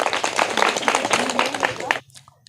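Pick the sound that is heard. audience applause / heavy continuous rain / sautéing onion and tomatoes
audience applause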